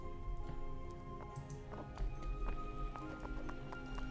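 Horse hooves clip-clopping in the voxel building game Kubifaktorium, a steady run of soft repeated hoofbeats over a continuous game music and ambient bed.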